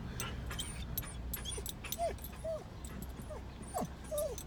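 A dog whimpers in a park, several short high-pitched whines and yips scattered over a few seconds, fairly faint against outdoor background noise.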